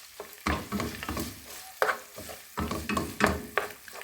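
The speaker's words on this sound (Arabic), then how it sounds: "هسه راح نضيف عليه ملعقتين من المعجون، وراح نحمسهم ويا اللحم" Tomato paste fries with minced meat in a pan, a soft continuous sizzle broken by several louder scraping stirs, all close by.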